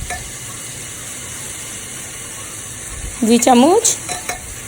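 Garlic and ginger fry in a pan with a steady, moderate sizzle and scraping stir sounds throughout, and a voice speaks briefly near the end over the frying.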